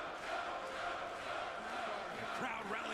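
A wrestling arena crowd at a Ring of Honor event roars and rallies in a dense, continuous wash of cheering and shouting, with commentary heard over it.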